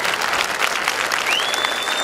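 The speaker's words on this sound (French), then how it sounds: "je voudrais qu'on fasse un tonnerre d'applaudissements, déjà pour le réalisateur" An audience in a cinema fills the room with steady, dense applause at a film premiere, the clapping loud and continuous for a couple of seconds with no talk over it.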